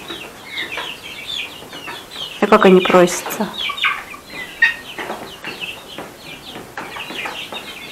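Domestic hens cluck in short bursts close by, with a louder flurry of clucking midway, while adults and children chat over them in a backyard coop.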